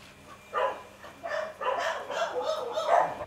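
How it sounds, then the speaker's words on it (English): A dog barks and yelps close by in a string of rough, overlapping bursts, with a steady background rumble underneath. "This is my dog I brought with me from the United States."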